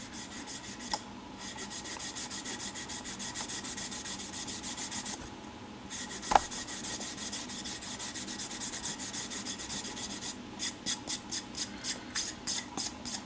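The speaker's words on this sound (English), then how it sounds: "Let me find that eraser. That's the key to cleaning these strops." An eraser rubbed back and forth across a leather strop, a steady dry rasping scrub that runs nearly continuously, pausing briefly, then breaking into quicker short strokes near the end.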